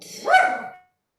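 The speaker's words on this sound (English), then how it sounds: "my dog got scared" A frightened pet dog lets out a single sharp bark with a brief whimpering edge, close and fairly loud, then the room falls silent.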